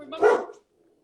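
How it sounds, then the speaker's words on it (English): A pet dog lets out one short, close bark, followed by silence. "My dog's probably gonna bark"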